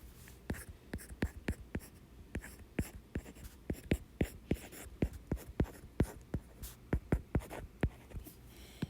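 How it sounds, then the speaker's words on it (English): A pen or pencil writes an equation of a circle by hand, producing quiet, rhythmic scratching strokes in a steady series of distinct taps and scrapes, close and alone. "I'm going to write our equation of the circle."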